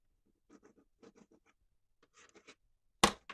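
A pen writing on paper, heard as short scratchy bursts in two clusters, then a single louder sharp tap or stroke near the end; close and alone with no talking.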